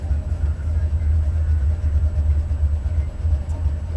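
A Buick 455 Stage-1 V8 in a Regal-T idles with a heavy low rumble, steady and close, and a faint ticking of lifter noise within the drone.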